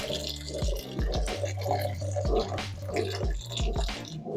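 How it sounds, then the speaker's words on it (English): Water pours steadily into a pot of Japanese curry, a continuous trickling splash with small dripping and bubbling under it, close and fairly quiet, with no talk. "I added about a cup of water."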